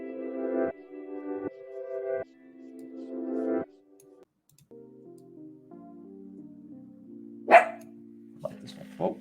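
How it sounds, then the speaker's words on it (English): A pet dog barks a few times near the end, sharp loud yelps breaking over steady tonal music or game sound that plays throughout. "Speaking of dogs, my dog barking."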